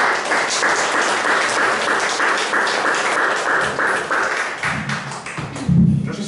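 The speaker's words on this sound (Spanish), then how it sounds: "les pido un fuerte aplauso" Applause at a book presentation for a translation of Samuel Taylor Coleridge's supernatural poems: a close, fairly loud round of clapping from a modest audience, with a few low thumps and handling knocks near the end.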